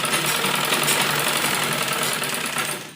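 Sewing machine running a continuous line of stitches on an umbrella frock, a loud steady buzzing rattle close by that holds for a few seconds, then tapers off as it slows at the end.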